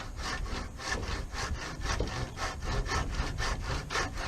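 A handsaw cuts through wood in steady back-and-forth strokes, about two per second, loud and close with a rasping, even rhythm and no talking.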